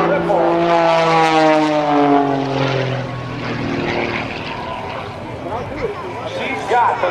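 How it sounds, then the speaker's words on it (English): Patty Wagstaff's aerobatic propeller plane with a Thunderbolt engine and MT propeller performs loops at the NAS Oceana airshow, its loud engine drone sweeping down in pitch as it passes overhead, with faint crowd babble beneath. "She's got the Thunderbolt glide-combing engine and the MT propeller, helping pull her through the skies"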